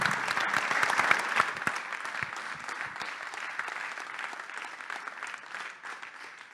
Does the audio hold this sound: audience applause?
yes